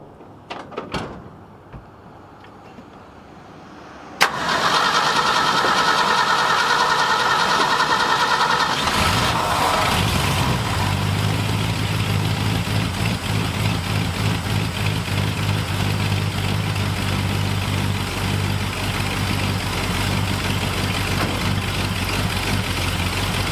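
A 1966 Ford F-250 truck's engine is cranked after a quiet lead-in, catches abruptly and settles into a loud, steady idle, briefly changing pitch as the choke is adjusted while it warms up.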